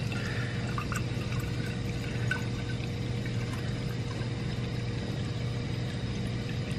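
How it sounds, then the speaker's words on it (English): Wine is poured slowly off its sediment during a second racking, a continuous low liquid rush under a steady hum with no speech. "I'm going to carefully try to pour this out without stirring up the bottom"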